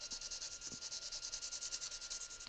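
A nail file sands resin flat in quick, regular back-and-forth strokes, a steady scratchy rasp close by with no talking.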